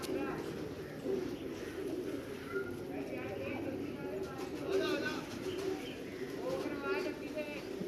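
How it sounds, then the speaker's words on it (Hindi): Pigeons cooing steadily in a loft in Lahore, soft repeated coos layered over a constant background hum, with a voice talking faintly underneath. "ये भी कमगर कबूतर है"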